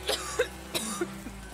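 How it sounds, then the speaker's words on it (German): A character in The Witcher 3 coughs several times in quick succession, short rough bursts spaced across a second and a half, fairly close and clear with no talking over them. "was hustest du mich an?"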